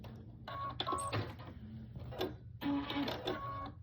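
Sewing machine runs in several short bursts, its needle whirring and rattling close by as it stitches a quarter-inch quilt seam, with brief pauses between runs.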